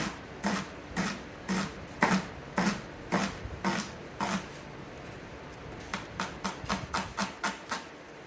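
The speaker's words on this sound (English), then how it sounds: "there's your onion diced" An onion being diced with a knife on a cutting board: a steady run of sharp, close chopping taps in quick rhythm, pausing briefly midway before resuming with faster strokes, no talking.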